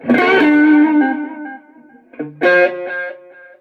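Electric guitar played through an Echo Machine delay pedal set up in stereo ping-pong, with a loud sustained chord that slowly fades, then a second struck chord ringing out with echoing repeats.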